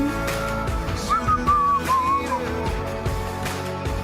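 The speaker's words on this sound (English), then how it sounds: "I like the whistling." Someone whistles a short wavering tune over a dense musical backing, the whistle clear and bright for a couple of seconds before fading into the music.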